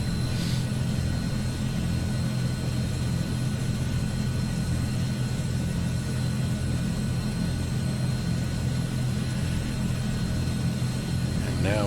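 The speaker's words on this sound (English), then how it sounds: "Looks like the right engine has settled down." A steady, loud drone from the running engine of an AzurPoly C-160 transport aircraft in Microsoft Flight Simulator 2020, holding an even, continuous rumble from start to end with no breaks.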